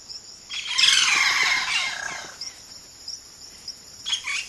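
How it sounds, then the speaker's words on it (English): Varied Amazon rainforest bird calls, a bright burst of overlapping squawky, chattering notes that sounds like several birds at once, followed by quieter chirps and faint insect-like trilling in the background. "A single bird can sound like a chorus."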